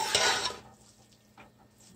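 Vermicelli being stirred in a pot after half a cup of boiled milk is added, a brief loud scraping stir at the start, then quieter faint scrapes and clinks against the pan.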